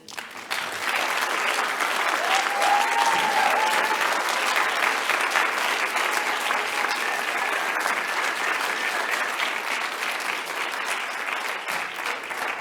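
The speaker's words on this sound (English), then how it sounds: "Applaud Angela there." An audience at a national conference awards ceremony applauds a winner with steady, full clapping that holds strong from start to finish, with faint voices mixed in.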